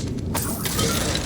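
A Depulso spell in Hogwarts Legacy smashes an object: a sudden loud shattering crash breaks out after a short quiet moment, then glassy, clinking debris rattles on at full volume.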